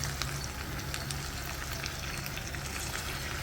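Chicken curry fries in a pan as a little hot water goes in, giving a steady, fairly quiet crackling sizzle with scattered pops throughout and no talking.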